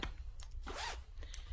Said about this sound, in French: fermeture éclair